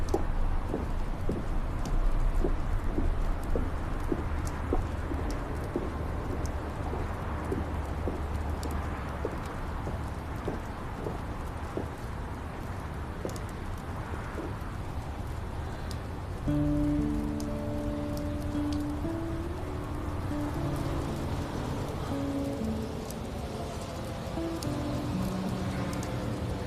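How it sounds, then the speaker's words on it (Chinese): Steady rain patters on surfaces outdoors near a pavilion, a continuous close hiss with pigeons or doves cooing in the background and soft tonal music entering in the latter part. "下雨了。"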